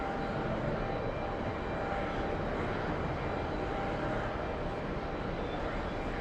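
KLM airliner taking off, a steady broadband engine roar at moderate distance holding even for the whole stretch, with no clear rise or fade.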